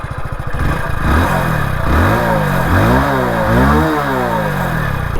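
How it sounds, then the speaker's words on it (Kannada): Hero Splendor motorcycle engine revving through its exhaust, loud and close, with repeated rising and falling throttle blips over a steady idle rumble. "ಬನ್ನಿ ಇದ್ರ ಎಕ್ಸಾಸ್ಟ್ ನೋಟ್ ಕೇಳೋಣ"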